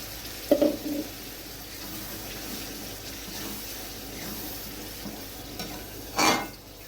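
Spinach paste goes into soybean masala frying in a pan, and a soft, steady sizzle follows with gentle stirring scrapes, a brief wet splat near the start and a louder scrape near the end.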